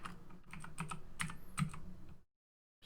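Quick, close clicks of a computer keyboard while entering code in a game engine tutorial, a steady patter of keystrokes that stops abruptly into silence.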